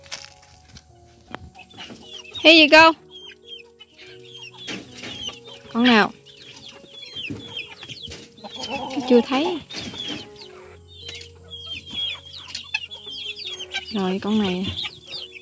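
Chickens and a rooster on a small Amish farm in the United States, being fed; several loud clucks and squawks come in short bursts, nearby, between stretches of quiet and brief speech.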